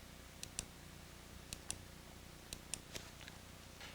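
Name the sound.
computer mouse clicking on invoices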